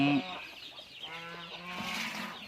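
Ducks, chickens and geese kept together on a small Thai farm give off a mix of close clucks and honking calls. The calls overlap in short bursts over a steady background of farmyard noise, with no talk.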